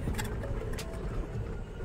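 An electric vehicle climbs the steep road up to Amer Fort in Jaipur, its steady low motor hum and road rumble continuous and fairly close, with faint background noise and no talk.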